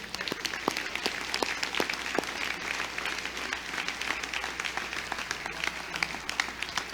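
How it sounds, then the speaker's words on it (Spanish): An audience applauds steadily and at moderate distance, a dense wash of many hands clapping with a few sharper individual claps poking through throughout. "Dele un aplauso al Señor, por favor."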